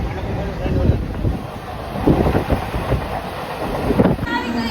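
Rumbling noise of a train arriving at Dadar station in Mumbai, with wind buffeting the microphone, steady and fairly loud, with clattering bursts as the train moves through.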